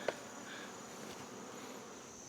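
Honey bees at a hive entrance in late August make a soft continuous buzzing drone, steady and moderately faint, with a brief click near the start.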